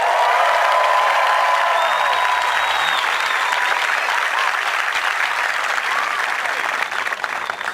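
A crowd at an Air Force basic military training graduation applauds in a thick, sustained roar of clapping, with light cheering and a couple of faint whistles riding over it throughout.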